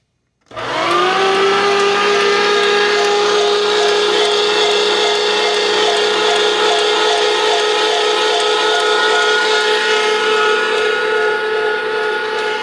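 An electric meat grinder starts up and runs loud and steady as it grinds venison chunks, a continuous whining motor drone with a slight labouring tone throughout.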